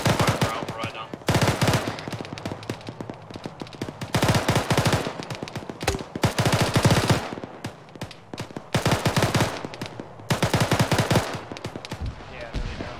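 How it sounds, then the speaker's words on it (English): Machine gun fire rattles out during a military field training exercise, loud close bursts of rapid shots separated by short pauses, repeating in about a dozen strings. "We're holding a base of fire for Alpha right now."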